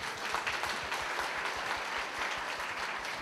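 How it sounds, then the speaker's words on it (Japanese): Applause from an audience closing a conference session on education and technology, a steady, fairly distant wash of many hands clapping, fairly faint, with no talk over it. "皆さんも盛大な拍手をお願いいたします。"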